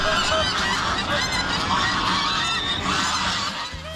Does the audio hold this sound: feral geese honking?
yes